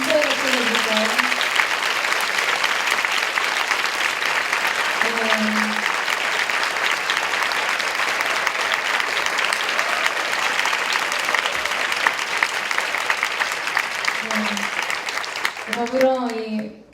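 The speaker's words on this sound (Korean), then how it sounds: "다시 한번 하나님께 감사의 박수 드립니다." A church congregation applauds at a Korean young-adults worship service, long steady loud clapping lasting over fifteen seconds, with brief voices talking over it at moments before it fades.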